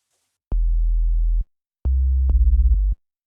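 Two deep, pure sine-wave synth bass tones play in sequence, each starting and stopping cleanly; the second note briefly wavers with a pulsing overlap before ending.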